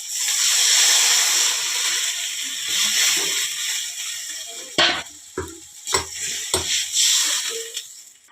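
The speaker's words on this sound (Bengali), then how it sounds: "এখন জল ঢেলে দেবো, এই জল ঢেলে দিচ্ছি।" Water is poured into spiced masala frying in a cooking pan, a loud sizzle and hiss that settles, followed by a few sharp clinks and stirring knocks of utensils against the pan.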